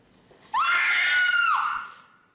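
A woman screams in fright after a snake drops onto her as she opens a door, one long, loud, high-pitched shriek that holds steady for about a second and then trails off.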